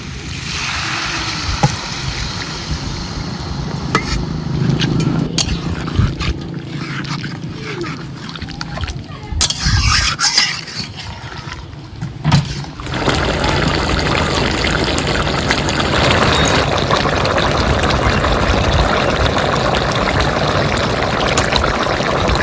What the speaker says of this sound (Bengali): এবার দিয়ে দেব পরিমাণ মতো জল